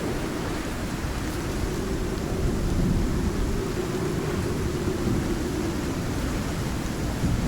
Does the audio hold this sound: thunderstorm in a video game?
yes